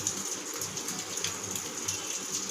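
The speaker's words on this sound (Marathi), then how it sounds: "त्याला मी स्वच्छ पाण्याने धुवून घेते" Clean water pours and splashes over finely grated raw potato as it is rinsed, a soft, continuous gushing hiss with no voices.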